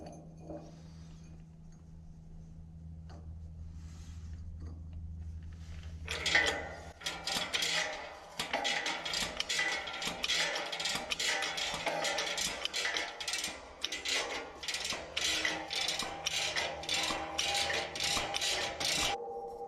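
A brass part is pressed into place on a Kearney & Trecker horizontal mill part, making a quick series of close metallic clicks and ratcheting clinks after a quieter hum.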